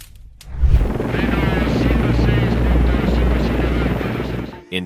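Steady low thudding rotor drone with a rushing wash of noise, loud and continuous for several seconds, like a helicopter passing close overhead, flying over the ocean near the Caribbean islands.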